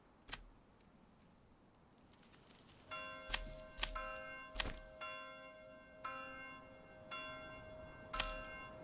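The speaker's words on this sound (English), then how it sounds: "The bells are tolling." Church bells toll in a village in the video game Manor Lords, several ringing strikes spaced out over a quiet backdrop, each leaving a long shimmering ring, with sharp clacks and ticks scattered between.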